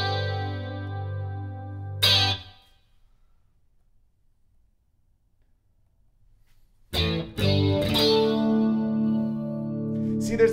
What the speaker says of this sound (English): There's that little bit of fizz at the end that I'm not in love with.